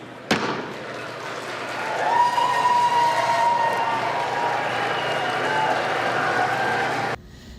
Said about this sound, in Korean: 본회의 직후 방청석에 있던 피해 생존자들은 기립박수로 환호했고 의원들도 박수로 화답했습니다.